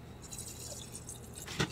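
Nutrient water trickles and drips into a small Kratky hydroponic container, a faint soft splashing that ends in a brief sharper splash near the end, heard alone at low level.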